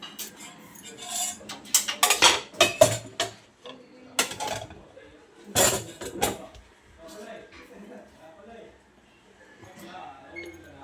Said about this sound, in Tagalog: At ngayon naman ay maghuhugas tayo ng ating mga pinaggamitan. Plato.